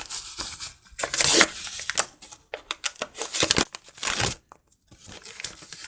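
A black paper packet is torn open with rustling, crinkling handling: bursts of ripping and crumpling paper, close and uneven, with short pauses between grabs.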